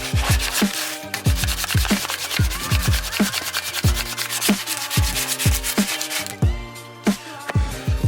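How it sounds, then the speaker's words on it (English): Rhythmic back-and-forth strokes of 300-grit sandpaper rubbing a surface in a fabrication shop, loud and close with regular pulses and no talk. "Got a 300 grit. This thing literally just smooths the whole thing out."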